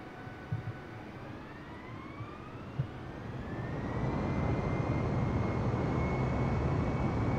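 Lockheed Martin F-22A Raptor taking off in the Flight Simulator 2020 video game: steady jet engine rumble with faint whining tones swells noticeably louder midway and holds at a full, continuous roar.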